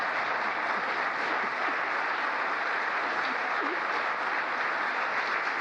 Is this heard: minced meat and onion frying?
no